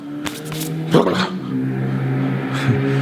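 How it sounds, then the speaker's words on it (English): A loud motorcycle engine roars past close by, revving with rising and falling pitch over a few seconds. "Damn motorcycles are loud, man."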